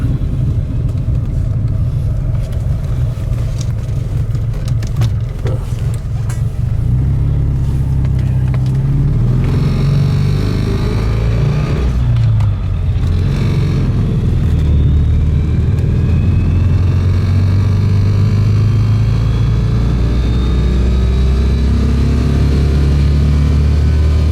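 A vintage Panhard PL17 engine revs at higher rpm once warmed up, a loud, continuous mechanical roar with rising and falling pitch, close to the microphone with no talking.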